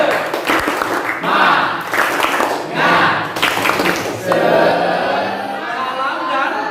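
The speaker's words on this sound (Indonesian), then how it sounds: "tepuk semangat dulu" A classroom of pupils claps a rhythmic spirit clap in bursts, several loud clustered rounds of hand claps with short gaps between them, mixed with voices chanting along.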